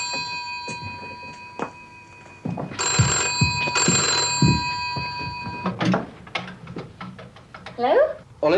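A telephone rings down the line during a call, heard as two long bright ring bursts in the middle, framed by handling clicks and brief muffled noises.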